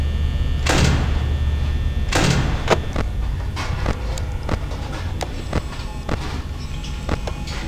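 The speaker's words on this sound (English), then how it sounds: "I'll fucking open the doors again" Metal security doors slam in the Five Nights at Freddy's video game: two heavy, whooshing clanks early on, then scattered sharper clicks and knocks over a steady low mechanical hum.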